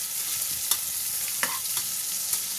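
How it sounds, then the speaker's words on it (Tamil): Chopped onions sizzling steadily in a hot pan for a hotel-style dish, a constant bright frying hiss broken by a few sharp clicks and scrapes of stirring, close and alone with no voices. "வெங்காயத்தை எடுத்து இதில் போட்டுக்கலாம். வெங்காயம் நல்லா வதங்கட்டும்."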